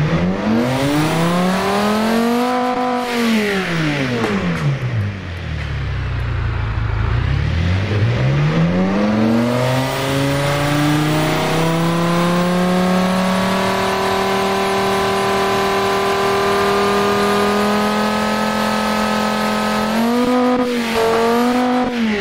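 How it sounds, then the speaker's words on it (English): A V10 engine in the Automation car company tycoon game revving with simulated gear shifts, its pitch rising and falling in a sweeping arc, dipping low before climbing to a sustained high drone, loud and alone throughout. "I'll show you the engine as is by doing some fake gear shifts for a little while"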